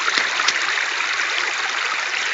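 Creek water runs steadily in a broadband, continuous flow at a gold-prospecting lease, loud and close with a few brighter splashy moments, and no voices over it.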